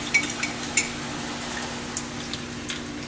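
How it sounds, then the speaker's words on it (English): Honey sauce being stirred in a pan, with light scraping and a few soft metallic clinks of a utensil against the pan over a faint sizzle. "I'm going to give it a stir first."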